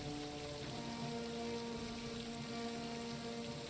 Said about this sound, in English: You don't hear much else except the sound of heavy rain upon the keep